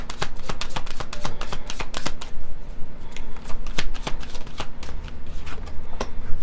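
Tarot cards are shuffled close up for a reading, a rapid, loud run of riffling flicks and slaps that carries on steadily throughout.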